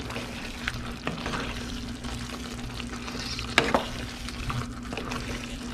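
Steak and potatoes are stirred together in a hot pan, a low steady sizzle with a few sharp utensil scrapes and clinks, moderately quiet with a constant background hum.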